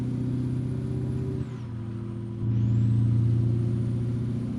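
A custom Peterbilt truck's two-stroke engine in American Truck Simulator drones steadily, dips briefly, then climbs back to a louder, sustained rev, with no one talking.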